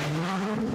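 Porsche rally car engine screams loudly up close, its pitch rising as the tires skid on the stage.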